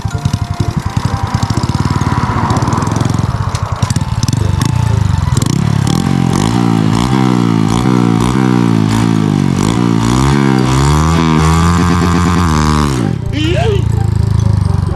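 Motorcycle fitted with a 53mm racing exhaust launching hard, the engine blaring loud and close with rapid revving, gear shifts stepping the pitch up repeatedly before it cuts off and settles.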